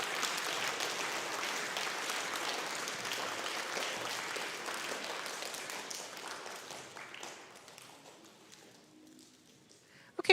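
Applause for a group of students at a school awards ceremony, a crowd clapping steadily before fading out gradually over several seconds.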